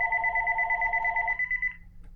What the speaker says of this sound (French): Attendez, je vais fermer la sonnerie